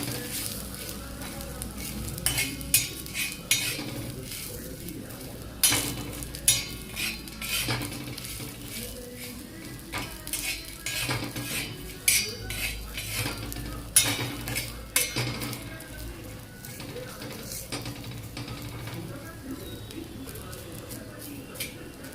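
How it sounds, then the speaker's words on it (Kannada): Vegetables frying in a spoonful of oil in a home kitchen: a faint sizzle under repeated clinks and scrapes of a metal spatula against the pan, with birds cooing and a voice audible in the background. "ಜಸ್ಟ್ ಹಿಂಗೆ ಹುರಿದು ಉಪ್ಪು ಖಾರ ಹಚ್ಚಿದ್ರೆ ಸಾಕು."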